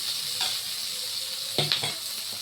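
Fish frying in a pan of oil gives off a steady bright sizzle, close and even, broken by a couple of soft scraping clinks from a utensil near the end.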